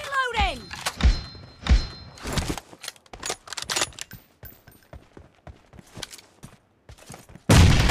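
Weapon reloading in the mobile shooter BGMI: a run of clacks and thunks from magazine and bolt handling, mixed with bursts of nearby gunfire and a game announcer voice, ending in a loud burst of noise.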